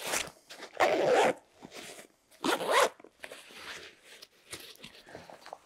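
A two-way zipper on a Helikon RAT CCW tactical waist pack is pulled open and closed in several quick rasping strokes, close and crisp, two longer runs standing out among shorter tugs.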